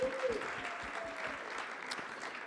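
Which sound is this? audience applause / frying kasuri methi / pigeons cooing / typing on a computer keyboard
audience applause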